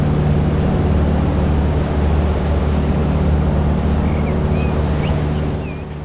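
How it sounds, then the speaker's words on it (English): Ship sound effects from the Transport Fever video game: a constant wash of waves and sea spray over a low engine drone, loud and steady, with faint gull-like cries near the end. "Ships also have sound effects in addition to the engine. For example, you can hear the waves or the sea spray."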